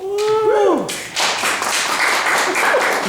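A brief whooping voice gives way to a small group clapping together for a few seconds at a university athletics press conference for a women's basketball coach, the applause close and fairly loud.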